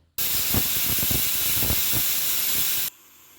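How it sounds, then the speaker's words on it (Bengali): A pressure cooker whistle blasts while daliya cooks, one loud, steady steaming hiss lasting almost three seconds with a rough gurgling undertone, close by, then cutting off abruptly. "একটা সিটি হয়ে গেছে"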